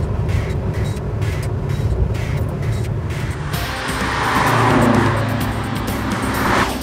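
A 1965 Chevelle SS V8 idles while warming up, a steady throaty rumble with a slight swell in the middle, close and alone without talk.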